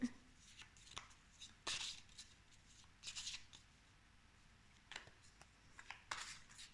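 Playing cards being shuffled close by at a low level, several short papery riffle bursts separated by quiet pauses, with no talking.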